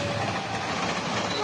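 The Purwojaya passenger train rumbles past on the rails near Kedung Gede station, Indonesia, a dense, steady roar with no break, loud and close throughout.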